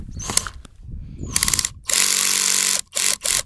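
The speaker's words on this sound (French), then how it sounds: "Donc visseuse Parkside de chez Lidl, avec l'embout, et hop." A Parkside cordless screwdriver fitted with a T20 bit whirs briefly, then its clutch slips with a loud, rapid ratcheting clatter in several bursts separated by short pauses, close and with no talk.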